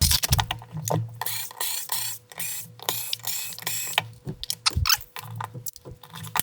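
Tuners on a Gibson Les Paul Studio guitar are tightened by hand on the workbench, producing a series of close, irregular metallic clicks, ratcheting turns and small rattles with brief pauses between bursts.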